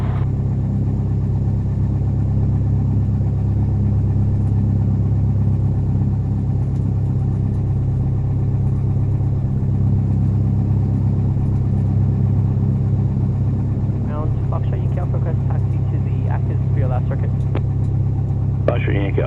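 A small airplane engine idles at about 1000 RPM during shutdown, giving a loud steady low drone that runs throughout while people talk over it.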